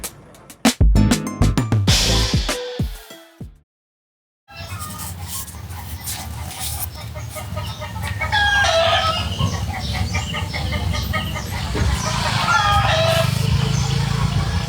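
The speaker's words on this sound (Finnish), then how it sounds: "Täällä on ihanasti herätty kukonlauluun niin kuin kuuluu" A rooster crowing in the morning in the Philippines, with loud clucks and close sounds at first, then a short silence, then repeated crows and clucking from farther off over steady outdoor background noise.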